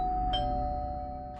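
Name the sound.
doorbell ringing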